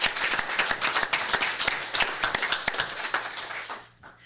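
Applause from the audience at a Turlock city council meeting, a dense run of clapping for about four seconds that tapers off at the end.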